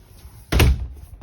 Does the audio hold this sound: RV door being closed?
yes